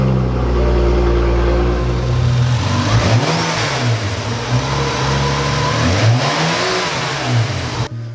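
A BMW F10 with the N55 engine idles loudly up close, then revs several times in rising and falling surges, with a low steady drone underneath before a sudden cut at the end.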